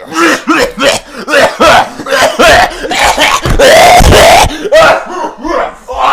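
A voice imitates a raspy coughing fit, loud and close, with repeated harsh hacks and throat-clearing sounds.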